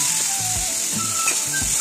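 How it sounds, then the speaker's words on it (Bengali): Dry red chillies and potato pieces fry in a pan with a steady soft sizzle while a spoon stirs them, giving a few brief scraping pushes. "শুকনো লঙ্কাটা একটু ভাজা ভাজা করে নিয়ে আলুটা আমি নেড়ে নেব।"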